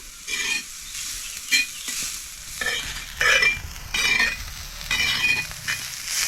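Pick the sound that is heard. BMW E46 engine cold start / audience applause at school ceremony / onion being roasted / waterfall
onion being roasted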